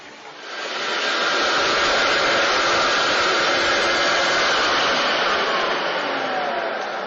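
A wet vacuum or extractor sucking cleaning solution off a floor along the edges, a steady loud rushing whoosh that swells in within the first second and holds unbroken, with no talking.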